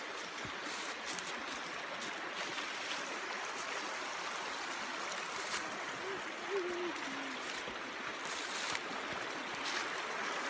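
Indian Creek in Cherokee National Forest, Tennessee, flows as a steady, broadband rush of water over its bed, filling the whole stretch at an even level with no speech on top.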